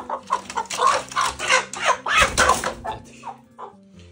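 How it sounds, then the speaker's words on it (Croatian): Hens cluck close by in a rural farmyard as new chicks are introduced to them, a string of short, loud clucks in a quick rhythm over a few seconds, with no talk. "Ubacit ću ovdje kokice, neka bude sa njima, da se naviknu"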